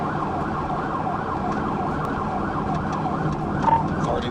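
A police car siren wails steadily during a pursuit, rising and falling in a continuous loop over loud road and engine noise, close and constant throughout.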